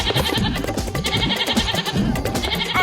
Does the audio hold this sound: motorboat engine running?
no